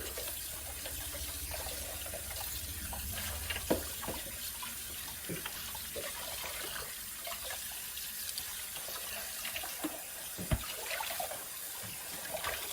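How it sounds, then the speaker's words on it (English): Tap water runs steadily into a sink while Tribest Slowstar juicer parts are scrubbed with a soapy sponge, with a few soft clunks of plastic against the basin and no talking. "Then I run my soapy sponge in there and just kind of try to wash this the best I can."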